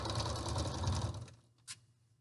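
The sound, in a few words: sewing machine stitching a seam on an isolation gown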